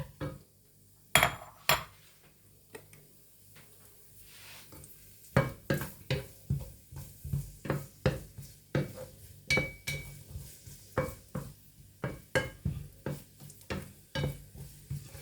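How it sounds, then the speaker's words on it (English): Carrots sautéing in a pan, with a spatula scraping and clinking against the pan in a quick, fairly regular rhythm over a faint sizzle. A few sharper knocks come early, then the pace picks up, all close and without talk. "I'm just gonna do my carrots, because the carrots is a bit hard. So I'm just gonna saute that down."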